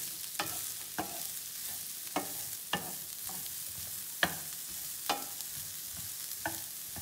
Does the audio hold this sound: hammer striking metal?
no